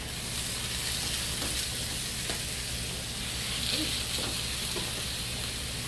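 Lean ground turkey cooks in a pan with a steady, even sizzle and soft crackling, plus occasional stirring clicks, near and without talk.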